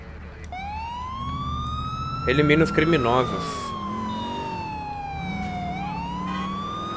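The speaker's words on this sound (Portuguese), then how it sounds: "Deixa eu desligar essa sirene." A police car siren in GTA IV wails in steady rising and falling sweeps while a voice speaks briefly over it, with engine hum underneath.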